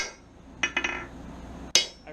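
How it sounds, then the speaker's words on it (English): Three quick metallic strikes, a pause, then one sharp ringing blow, close and clear with no talking. "I'm using a hammer that I made"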